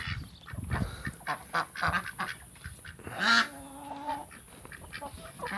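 Ducks and chickens in a backyard flock at close range, a busy mix of quacks, clucks and one loud honking call, irregular and overlapping throughout.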